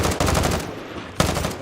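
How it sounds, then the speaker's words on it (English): Sniper gunfire in a first-person shooter video game, coming from a lighthouse position: two sharp, loud shots about a second apart, each trailing into a rattling echo, close and dominant with no talking. "they're sniping from Lighthouse"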